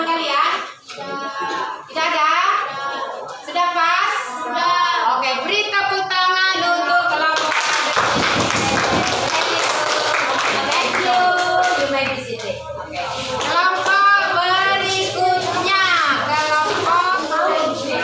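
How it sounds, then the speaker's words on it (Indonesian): A classroom of students claps in a dense burst of applause lasting several seconds, with children's voices talking before and after. "beri tepuk tangan"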